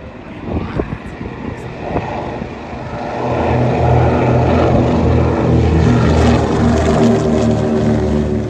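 A C-47 propeller aircraft at an air show, its piston engines building from a rough idle to a loud, steady throbbing drone with a pulsing propeller beat, close by, with faint crowd noise early on.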